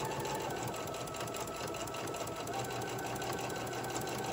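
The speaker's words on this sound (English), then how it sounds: "I'm just gonna keep on sewing right off the edge." Sewing machine running steadily in one continuous stretch as it top-stitches along the edge of a pet bandana, a fast even mechanical whir with no pauses.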